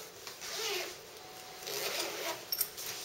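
A zipper on the back pocket of a Lowepro Stealth Reporter D400 AW camera bag is pulled in a few rasping strokes, close and fairly quiet, with brief pauses between pulls.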